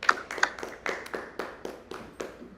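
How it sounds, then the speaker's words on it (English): A few people clap for a guest on a podcast, with sparse, faint, individual claps spaced irregularly rather than full applause. "Let's give him a round of applause,"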